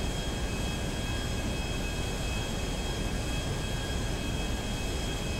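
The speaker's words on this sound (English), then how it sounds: "Just fly a plane." Steady, loud drone of a plane flying in GTA V, a broadband engine roar with a faint high whine that holds unbroken throughout with no voices.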